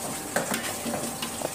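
Whole spices roast in hot oil for Kashmiri mutton rogan josh, a steady close sizzle broken by a few light scraping stirs over a short moment.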